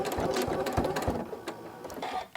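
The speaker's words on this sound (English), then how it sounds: "I'm just going to back stitch" A sewing machine back-stitches to close the opening of a quilted mug rug made from orphan quilt blocks, a close, rapid mechanical whirring and chattering that slows near the end.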